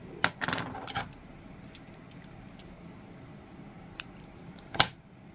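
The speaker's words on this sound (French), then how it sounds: "on coupe le fil" Scissors cutting crochet yarn, heard as a few faint, sharp metallic snips and clicks spread across a quiet background, with one louder snip near the end.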